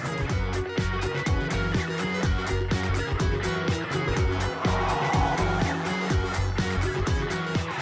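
A small car with a 1.6-litre engine on 17-inch rims drives steadily, its engine drone and road noise continuous and fairly close throughout, with no talk.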